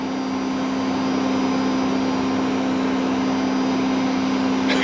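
A Hoover vacuum cleaner runs steadily with strong suction, a constant close-up drone with a sustained mid-pitched whine and no talk over it, the tone shifting slightly as the nozzle is pressed against something.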